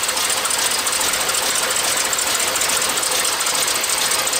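A 1982 engine with a Thermo-Quad carburetor idling on a cold start, a loud steady rumble with a fine rapid knock, running evenly and close up without any talk.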